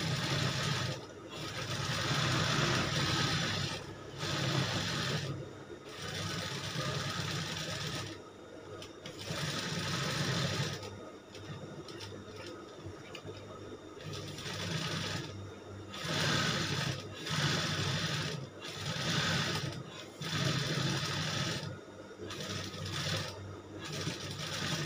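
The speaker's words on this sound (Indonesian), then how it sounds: "Oke, sudah kita jahit daunnya, kita baru jahit bawahannya ya," Sewing machine stitching the lower layer of a shirt collar, running in repeated bursts of steady mechanical whirring separated by short pauses, fairly close and moderately loud throughout.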